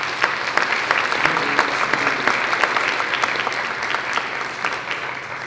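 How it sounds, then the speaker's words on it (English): An audience at a high school winter choral concert applauds a Methodist church choir, a dense, steady patter of many hands clapping continuously throughout, fading slightly toward the end. "So we give them a round of applause."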